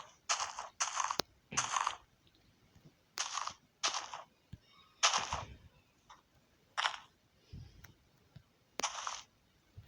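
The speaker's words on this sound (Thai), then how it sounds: "ระเบิดฟาร์มด้วยนะครับ" A series of sharp, punchy Minecraft explosions blowing up a village and farm, about a dozen in ten seconds, irregularly spaced with brief quiet gaps, some followed by low rumbles.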